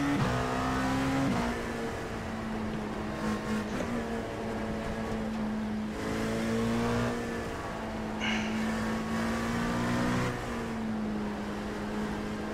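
A race car lapping Suzuka in the iRacing sim, its engine droning steadily and rising and falling in pitch through gear changes and corners, loud and continuous with no voices over it.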